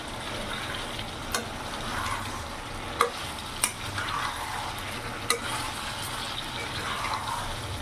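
Chicken being stirred and sautéed in a pan over a high gas flame with no water added yet, a steady low sizzle broken by a few sharp clacks of a spatula against the pan.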